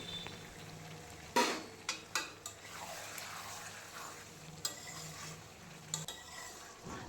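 Chicken simmering with homemade spices and a little added water over a medium flame, a soft bubbling sizzle with occasional spoon clanks and scrapes against the pan, close and fairly quiet, no talking.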